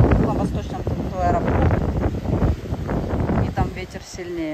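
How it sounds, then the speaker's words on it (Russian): Strong gusting wind on the west coast of Tenerife buffets the microphone in rough bursts, with faint voices and lapping ocean water mixed underneath. "Здесь иногда бывает вот такой ветер."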